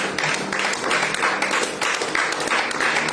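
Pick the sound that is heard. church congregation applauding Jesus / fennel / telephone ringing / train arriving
church congregation applauding Jesus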